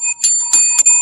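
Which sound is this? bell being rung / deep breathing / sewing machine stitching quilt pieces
bell being rung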